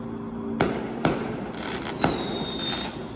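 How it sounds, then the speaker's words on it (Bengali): Firecrackers burst on Eid day in Malaysia, four sharp cracks going off at uneven intervals over a steady background rumble, fairly near and loud. "ঈদের দিনে এইখানে পটকা ফুটছে"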